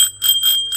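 A small bell rung in quick repeated strokes, bright metallic rings with a sustained ringing tone, close and loud with no talk.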